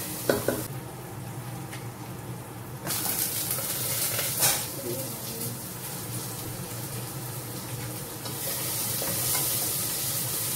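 Chicken chasseur with mushroom, shallot and onion sizzles under a lid in a pan, a steady close frying hiss with a few clatters and a brief bright clank early on, and no talk.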